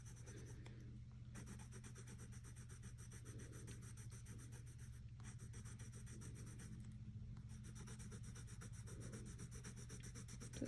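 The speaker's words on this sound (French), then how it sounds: "c'est des crayons de couleur" Soft, steady scratching of a colored pencil rubbing across textured watercolor paper, quiet and continuous under a faint hum.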